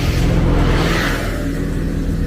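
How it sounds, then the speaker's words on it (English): A bus drives past near a roadside campground at kilometer 58 in Baja, a loud, broad engine roar and road rumble that swells and holds throughout, with no voices. "Sorry about the bus."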